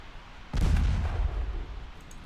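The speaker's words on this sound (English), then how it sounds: "One torpedo hits, two torpedo hits." Torpedo hits exploding in the naval warfare game Ultimate Admiral Dreadnoughts, a sudden deep, booming blast that rumbles and fades over a couple of seconds, with no speech.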